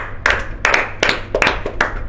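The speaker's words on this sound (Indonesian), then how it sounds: "Tepuk tangan." Clapping at a casual talk show taping, about six separate loud hand claps in a loose, uneven rhythm, close and alone.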